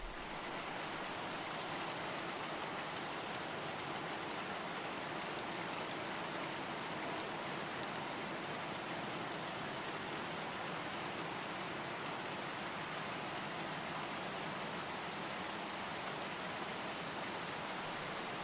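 Steady rain in the video game Moth House, a dense, unbroken hiss that holds at even loudness throughout with no voices.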